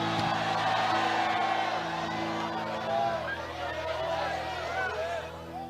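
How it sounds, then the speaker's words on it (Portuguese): A church congregation shouts out in praise, with loud overlapping whoops and cries of a crowd filling the room and holding strong throughout. "Então dê mais um grito de glória para esse lugar tremendo."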